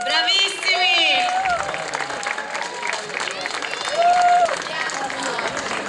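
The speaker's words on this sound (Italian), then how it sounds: "Un applauso a Roberto! Bravissimi!" A crowd at a local talent show applauds steadily with scattered cheers, while voices call out over the clapping throughout.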